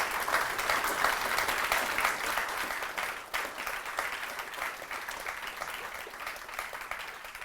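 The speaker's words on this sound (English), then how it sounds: "let's have a round of applause." Sustained applause from a seminar audience at a public talk on the housing crisis, steady dense clapping throughout with a brief dip midway, fairly close and loud.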